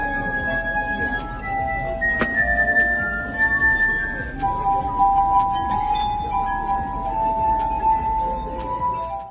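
A melody played on tuned glasses by a street performer, with clear ringing glass notes forming a sustained melody over a steady background murmur.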